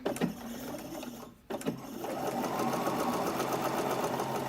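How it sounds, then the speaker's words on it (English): A sewing machine stitching a facing down on a drawstring-neckline top, starting with a couple of handling knocks and a brief pause, then a steady, close, rapid mechanical whir with no talk. "So now we're ready to go to the sewing machine. Okay, we're going to sew this facing down."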